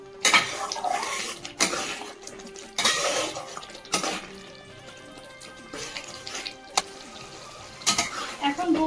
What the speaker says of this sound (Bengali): এবার পুরো মশলাটাকে ভালো করে কষিয়ে নেব